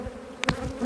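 Bees or wasps swarming and stinging at gloves, a close, brief angry insect buzzing with sharp crackles and bumps against the glove, no voices.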